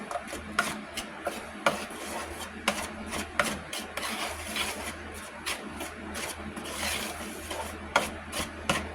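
A teaspoon scrapes and stirs flour and butter crumb topping in a bowl, with steady close gritty rubbing broken by regular sharp clinks of metal on the bowl.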